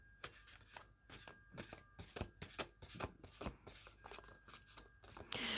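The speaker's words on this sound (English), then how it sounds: "So I'm going to pull oracle cards." A deck of oracle cards is shuffled by hand, giving a quick run of soft, papery riffles and slaps in an irregular rhythm, close and fairly quiet.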